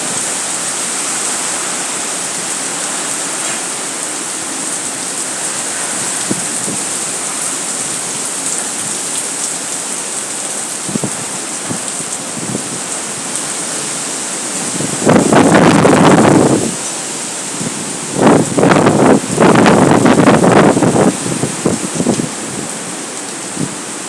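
Hurricane Beryl rain pours steadily against surfaces outdoors with a constant hiss, while heavy wind gusts roar in louder bursts near the microphone toward the end.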